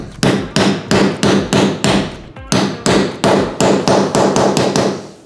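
A hammer taps a seal into a Jetsurf jet pump with about fifteen sharp, loud, close strikes in a quick steady rhythm and one brief pause midway.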